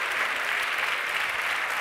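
A crowd at a main-stage event applauds Enrico Mentana, a dense, even wash of clapping that stays loud and unbroken from start to finish.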